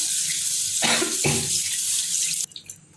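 Green gram and raw rice are rinsed under a running tap, water gushing steadily into a vessel with splashy swells as the grains are stirred, then the flow stops, leaving a few drips.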